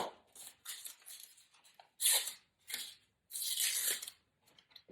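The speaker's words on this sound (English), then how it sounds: "Just tape that there." Strips of masking tape are torn off to fix a stencil to a screen for screenprinting, several close, sharp ripping bursts with brief pauses between, no talk.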